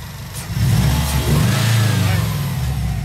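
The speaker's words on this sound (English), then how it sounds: "Can you give it some gas?" A stock 2011 Subaru Impreza WRX with an upgraded radiator, intercooler and full exhaust system revs up close by, its low, throaty engine roar swelling and holding steady for about three seconds.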